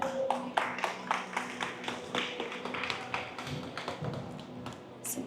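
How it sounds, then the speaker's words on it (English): Audience at a Republic Day community event breaks into a round of applause, steady clapping from many hands at moderate volume, without speech. "Can you all please give a big round of applause?"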